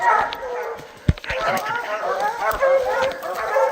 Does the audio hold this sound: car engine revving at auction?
no